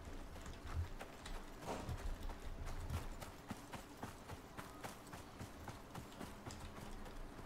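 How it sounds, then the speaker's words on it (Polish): A horse's hooves clip-clop in the survival video game Icarus, a quiet, steady series of rapid knocks over a soft background of game ambience, with no voices. "No słyszałem normalnie kopyta."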